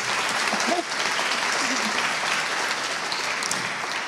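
Applause from an audience at a film master class, honouring director Nadine Labaki, thick and continuous clapping that fills the whole stretch at an even level, with a faint voice briefly surfacing near the start.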